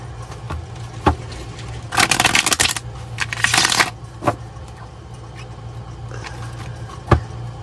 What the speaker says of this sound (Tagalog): Balasahin muna po natin mabuti.